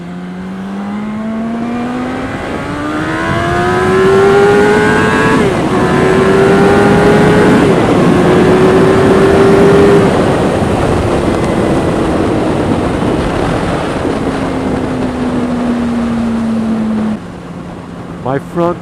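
A 1,000 cc circuit motorcycle engine revs loudly and close, its pitch climbing and falling through gear changes for most of the run before dropping off near the end, with a rider's voice over it.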